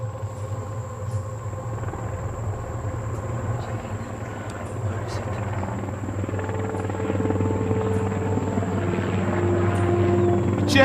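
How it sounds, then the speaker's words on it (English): A Black Hawk helicopter flies overhead with a loud, steady rotor drone and a high whine, growing slightly louder as it passes nearby. "the crew of a Black Hawk chopper spots the crash site"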